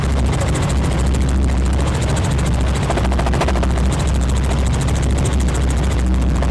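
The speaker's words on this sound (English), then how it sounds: "due to the sound of this helicopter" A helicopter flies overhead during a tour above mango trees, its steady rotor thump and turbine whine loud and continuous throughout, with no voices.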